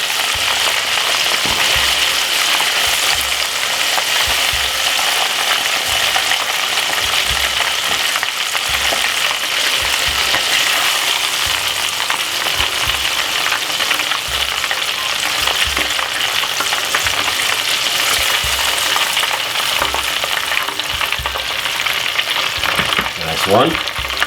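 Southern fried chicken pieces crackle in hot oil: a loud, dense, continuous sizzle that holds steady for the whole stretch, close by, with no clear talking.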